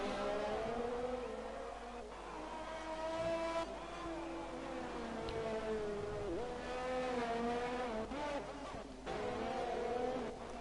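Racing cars lapping the Monaco circuit in a racing video game, their engines whining and shifting pitch as they rev and pass, a steady faint drone that continues throughout with no one speaking.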